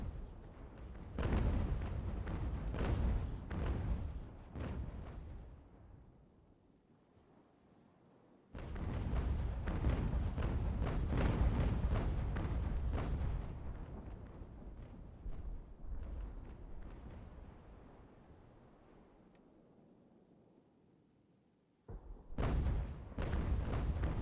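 Cannon artillery fire from an American Revolution strategy game on ultimate difficulty, with loud booming volleys that crash in several clusters of rapid shots and fade out between bursts.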